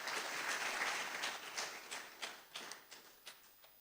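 Audience applause at a public forum on Ghana's governance fills the room densely at first, then thins into scattered, separate claps that fade toward the end.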